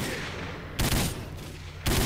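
Sniper rifle shots in S.T.A.L.K.E.R. Call of Pripyat, two loud sharp cracks about a second apart over a constant rumbling background, no voices.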